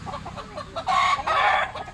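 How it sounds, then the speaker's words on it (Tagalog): Chickens on a small farm in Barangay Agos-Agos give a few soft clucks, then two louder, drawn-out calls close by, with no talk over them. "There's a chicken."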